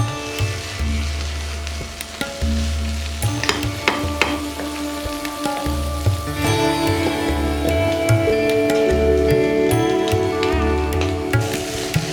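Hot mustard oil sizzling as it is poured over Ichamori soup, a loud continuous frying crackle with clinks and stirring knocks throughout, no voices.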